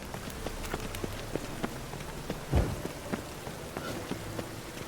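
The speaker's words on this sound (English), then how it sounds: "I like rain." Steady rain patters in The Witcher 3: Wild Hunt, with scattered drop hits and a soft low thud partway through, no voices over it.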